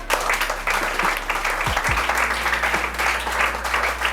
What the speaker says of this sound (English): So we can give you another round of applause.